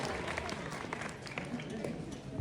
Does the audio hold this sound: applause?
yes